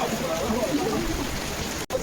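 Heavy rain pours down steadily on an outdoor setting in Chennai, a dense broadband hiss that stays constant throughout with a brief dropout near the end.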